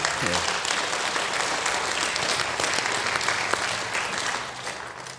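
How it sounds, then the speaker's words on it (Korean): A church congregation applauds at a Sunday evening service, dense and even clapping that holds loud throughout and thins slightly toward the end. "격려의 박수 부탁드립니다."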